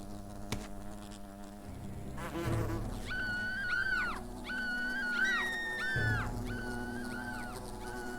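Wasps in the video game Fable give off a steady insect drone, with repeated rising and falling whiny tones layered over a low rumble of game ambience. No one speaks.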